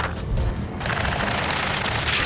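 Gunfire during a battle at a space elevator in the video game Ace Combat 7, a dense and loud continuous fusillade of rapid shots with booming low rumble throughout.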